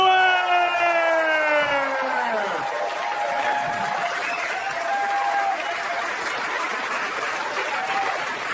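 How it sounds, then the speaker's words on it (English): Audience applause and cheering at a stand-up comedy show, a loud sustained roar of clapping and whoops filling the room, with a voice rising and trailing off at the start before the crowd noise carries on alone. "Put your hands together for Amy Schumer!"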